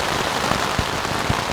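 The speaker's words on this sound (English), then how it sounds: "the rain just came" Sudden heavy rain drums on a camping tent in the wilderness of Sarek, Sweden, a dense, steady close hiss with a few louder individual drops standing out.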